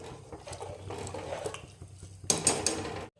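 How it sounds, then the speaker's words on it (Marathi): Rice and lentils stirred into water in a pressure cooker for coriander khichdi: a near, steady scraping and clatter of a spoon against the metal pot, ending in a louder burst of clinks before stopping. "डाळ तांदूळ टाकून झाल्याच्या नंतर एकदा मिक्स करून घ्यायचे असे"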